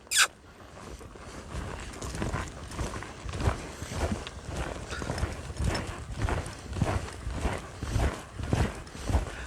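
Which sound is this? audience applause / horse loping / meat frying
horse loping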